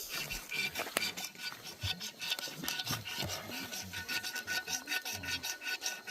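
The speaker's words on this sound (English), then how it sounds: "going back to scraping that magnesium" Someone scrapes a magnesium block to start a fire outdoors, a rapid, continuous rasping of short strokes, fairly faint and close, with a few sharper ticks mixed in.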